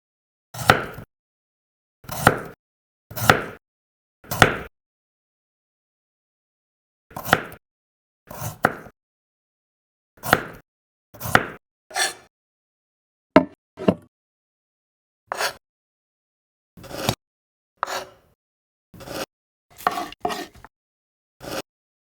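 Knife chopping bell pepper on a tiny board in a miniature kitchen, while fried octopus with garlic and spaghetti is prepared: sharp, close, dry knocks in short bursts of two to four, with pauses between, no voices.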